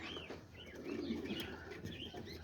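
Fischer's lovebirds in an aviary give faint, scattered chirps and soft twittering calls over a low, steady background hum, with no voices.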